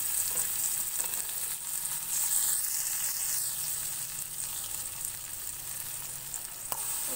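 Chili and curry leaves with cumin sizzle in hot oil in a cooking pan for a Jain toor dal, a steady, close frying hiss with faint stirring scrapes and a light clink near the end.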